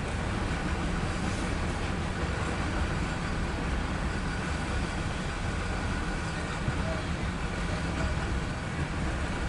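A loaded CSX coal train rumbles past at close range, a steady, loud roar of rolling freight cars and wheel noise that holds continuously from start to finish with no pauses.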